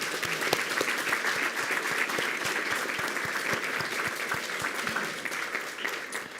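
Steady applause from an audience at a school board meeting honoring choir students, dense clapping that fills the room at an even level for the whole stretch with no talk over it.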